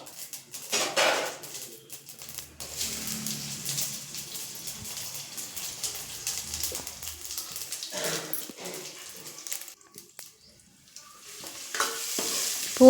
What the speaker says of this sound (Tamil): இப்போ இதில் நாலு கடுகை போட்டு பொரிஞ்சதுக்கப்புறம் அந்த பூண்டை போட்டுப்போம்